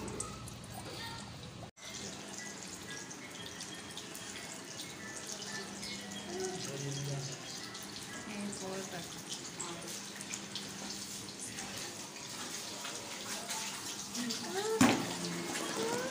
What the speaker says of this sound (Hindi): अब इसको फ्राई करेंगे ऑयल गर्म हो चुका है